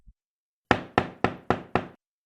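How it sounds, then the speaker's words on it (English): Five sharp knocks on a door come in an even, steady rhythm, loud and close, after a moment of silence. "A knocking came to the door the moment later, jarring Rainbow from her trance."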